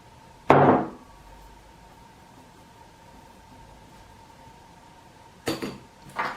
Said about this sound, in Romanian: Făina o voi cerne.